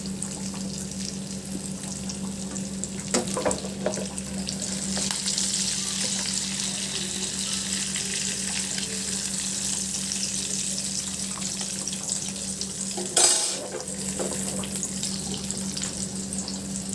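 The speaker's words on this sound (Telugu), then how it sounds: "అన్ని చేపలు ఇలా ఫ్రై చేసుకుందామండి." Fish frying in a pan, a continuous bright hiss of hot oil that holds steady, with a low hum underneath and one short louder clatter near the end.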